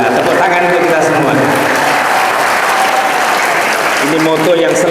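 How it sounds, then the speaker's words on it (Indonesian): A crowd at an Islamic boarding school gathering claps loudly and steadily, dense sustained applause with voices faintly mixed in beneath it. "Tepuk tangan untuk kita semua."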